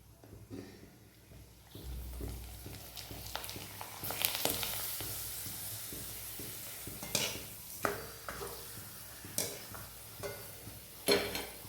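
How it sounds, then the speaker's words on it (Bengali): Papads made with rice starch water frying in oil in a home kitchen, with soft sizzling, stirring scrapes and intermittent clatters of a utensil against the pan. "সব পাঁপড়গুলো আমার ভাজা হয়ে গেছে"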